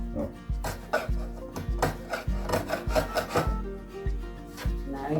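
Straight edge scraper dragged across a wooden Kroehler dresser in repeated rhythmic strokes, a dozen or so close rasping scrapes with short gaps between them, no talking.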